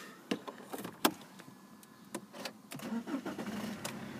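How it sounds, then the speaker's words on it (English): A blue BMW 320d SE Touring diesel with automatic gearbox and a recently fitted new turbo starts up after a few clicks and interior clunks, then the engine settles into a low, steady idle heard from inside the car. "No problem starting the vehicle."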